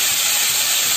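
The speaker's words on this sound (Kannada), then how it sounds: "ಈಗ ನುಗ್ಗೆಕಾಯಿನ ಹಾಕೋತೀನಿ, ಸ್ವಲ್ಪ ಫ್ರೈ ಮಾಡ್ಕೋತೀನಿ" Boiled drumstick (moringa) pieces fry in a pan for a Karnataka nuggekai palya. They give a steady, bright, hissing sizzle that lasts about a second. The sound is close and continuous, with no voices.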